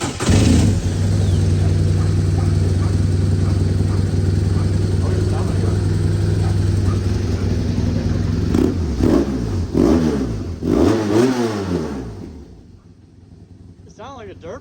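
Motorcycle engine idling steadily and then revving in a few rough bursts that sound like a dirt bike, loud and close, before the engine dies away to near silence.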